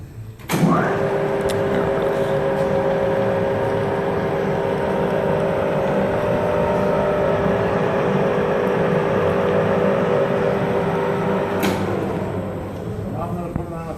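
A Cincinnati Bickford Super Service drill press runs at 460 RPM, giving a steady mechanical hum with a tonal whine that holds for about eleven seconds between a start and a stop clunk.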